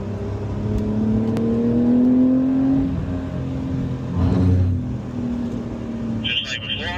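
A Porsche runs a corner on the track at the Porsche Experience Center Los Angeles, its engine droning and rising in pitch before easing off, with a voice talking over it.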